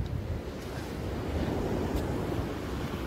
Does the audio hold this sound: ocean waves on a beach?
yes